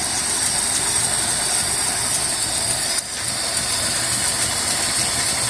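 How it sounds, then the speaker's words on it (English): A Ford Falcon Futura engine idles steadily after warming up, a smooth, quiet, even run held close and constant with no talking over it. "But yes, she's running and idling."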